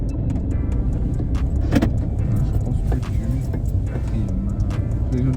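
A manual car pulls away as a learner driver slowly releases the clutch, the engine a steady close hum beneath a brief spoken phrase and light rattles inside the cabin.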